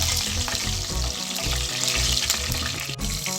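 Mustard seeds, cumin, dried red chillies and green chillies crackle and sizzle loudly in hot oil, a tempering for bottle gourd dal. The frying stays dense and continuous from start to finish, with no voices.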